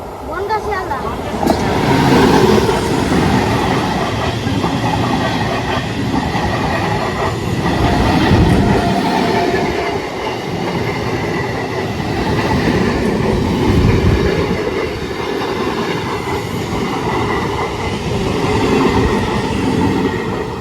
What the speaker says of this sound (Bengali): ট্রেনটা আসে